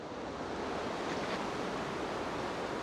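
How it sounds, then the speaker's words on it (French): Ocean surf breaking off Réunion island, a steady, loud wash of broadband noise that rolls on without pause, with a slight swell near the middle and no voices. "des vagues de 2 mètres de haut, 2 fois plus grosses que celle-ci"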